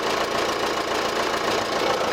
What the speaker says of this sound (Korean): 자, 그러면 엔진소리 한번 들려드릴게요.